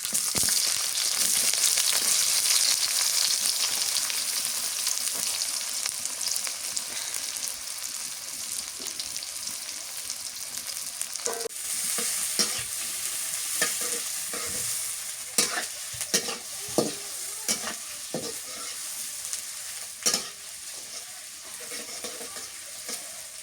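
Onion frying in oil with bay leaf, cinnamon and garam masala, a loud crackling sizzle at first that settles into steady frying, with a run of spoon scrapes and knocks against the pan toward the end.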